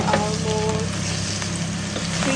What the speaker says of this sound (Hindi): अब हम इसे थोड़ा सा फ्राई करेंगे